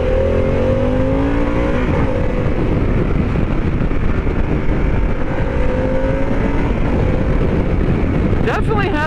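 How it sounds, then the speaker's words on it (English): A 2021 Harley-Davidson Pan America motorcycle engine revs and accelerates on the road, a loud continuous roar with wind noise. There is a brief sharp sound near the end. "Definitely has some kick to it."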